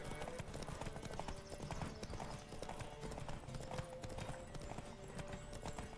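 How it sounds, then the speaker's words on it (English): Horse hooves clip-clop in a steady galloping rhythm in The Witcher 3, fairly quiet and continuous, with a faint whinny and game ambience around them. "Don't spare the horse."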